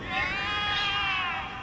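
Cats in the video game The Cat Lady meowing in alarm, a drawn-out, wavering, high-pitched yowl held for over a second at steady loudness.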